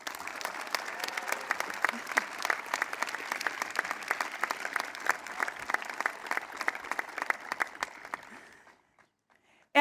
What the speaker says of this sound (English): Please join me in a round of applause in recognizing our 2024 foreign exchange student, Wasi Tassan.